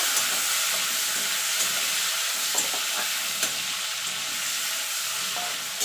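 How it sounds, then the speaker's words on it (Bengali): Prawns frying in hot mustard oil for a Bengali taro-leaf paste dish, a steady loud sizzle and crackle throughout with occasional sharper pops and stirring scrapes, no talk. "চিংড়ি মাছটা দিয়ে দেবো। দিয়ে চিংড়ি মাছটা হালকা করে ভেজে নেব।"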